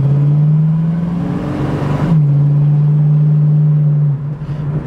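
A 1972 Ford Mustang with a 302 two-barrel V8 and automatic transmission runs steadily, its low engine drone rising and shifting before settling into an even hum close by, with no talking.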